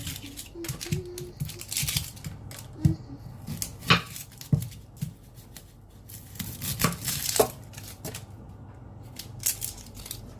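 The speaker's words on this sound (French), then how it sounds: "après on va couper l'oignon" An onion chopped with a knife on a cutting board, a run of close, uneven crisp cuts and thuds with short pauses, plus a few louder knocks.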